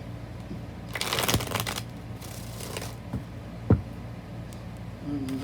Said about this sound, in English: I like to do 3 shuffles.